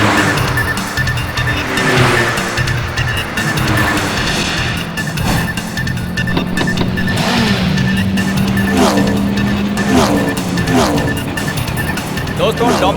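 Race cars launch at the start of a race, with engines revving, drivers' tires squealing in repeated bursts and the field roaring past while someone talks excitedly over the noise.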